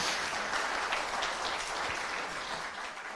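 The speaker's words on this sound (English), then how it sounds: "can I get a round of applause for all the mothers that are here?" A concert audience in the Church of the Palms claps for the mothers present on Mother's Day, a steady wash of applause that fades slightly toward the end.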